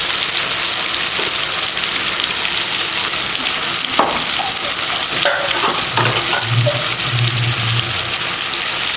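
Ground masala sizzling and frying in hot oil for a Tamil-style cauliflower curry, a steady loud crackle with occasional stirring scrapes and bursts of louder spitting, no talking.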